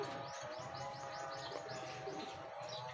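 Racing pigeons in a loft coo and chirp softly and continuously, a faint repeating run of short tweets over a low, steady murmur of coos.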